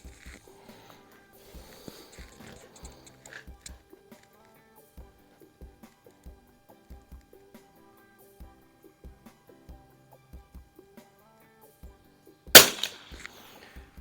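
A 1937 Remington Model 41-P bolt-action .22LR target rifle fires a single sharp, loud crack near the end, after a long stretch of quiet handling clicks and taps.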